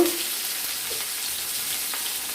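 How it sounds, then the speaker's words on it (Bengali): Potatoes sizzle steadily in hot mustard oil, a constant close frying hiss with a brief clink at the start and no talk. "সরষের তেলটা গরম হয়ে গেছে, এবার ছেড়ে দেবো আলুগুলো। আলুগুলোকে আমরা লাল লাল করে ভেজে নেব।"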